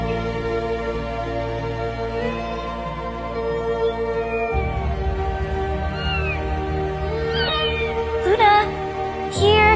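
A cat meows several times over a steady low hum, the calls rising and wavering, with a sharper cry near the end.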